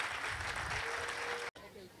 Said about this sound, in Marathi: तर शिक्षकांना आणि मुलांसाठी एकदा जोरदार टाळ्या झाल्या पाहिजेत.